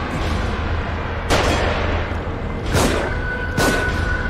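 Dynamite explosions in the survival-horror video game The Evil Within, three broadband booming blasts rising out of a steady game ambience over roughly four seconds, fairly loud and close.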